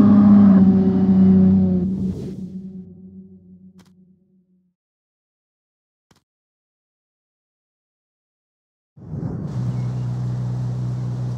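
A car engine on regular gasoline in the CarX Street racing game roars loudly for about two seconds, fades into near silence, then picks up again as a steady engine drone near the end.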